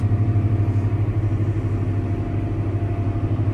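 A tractor's engine runs steadily nearby, a loud low throbbing idle with an even pulse that continues without a break.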